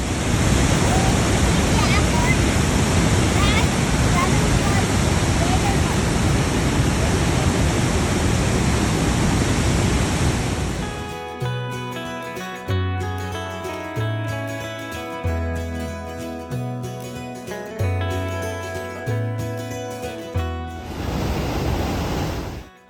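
A large waterfall at Yellowstone roars as a loud, steady, broadband rush for about eleven seconds, then drops out and gives way to music with a regular rhythmic pattern until the end.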